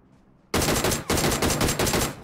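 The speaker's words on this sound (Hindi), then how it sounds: "दिए 4-5 शॉट" Gunfire in the battle-royale game PUBG bursts in loud and close after half a second of quiet, a rapid string of heavy shots in two or three clustered volleys that run to the end.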